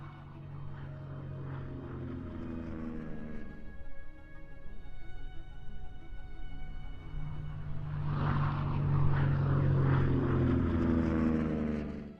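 Piston engines of P-47 Thunderbolt fighter planes drone loudly and change pitch as the section peels off one by one into a dive, the roar swelling toward the end.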